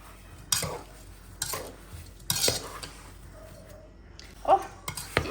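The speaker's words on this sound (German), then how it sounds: "das rühre ich jetzt noch einmal um" A spoon scrapes and clinks against a pot while stirring halved and quartered strawberries with sugar for jam, several distinct bursts of stirring with brief pauses between them.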